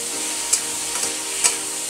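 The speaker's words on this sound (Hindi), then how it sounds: "अंगूर को भी साथ ही में भून लेंगे हम।" Apple pieces and grapes fry in a pan for a homemade sweet, giving a steady, soft sizzle with a few faint stirring scrapes and brief clicks, close up and with no voices.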